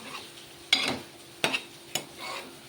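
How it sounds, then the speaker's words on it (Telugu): Mutton curry being stirred in a cooking pot, with a few distinct scraping and clinking strokes of the spoon against the pot over a soft background simmer, close and fairly quiet. "ఇట్లా మంచిగా కలుపుకొని సిమ్లో కొన్ని ఇంకా కొంతసేపు ఉడకనిద్దాం"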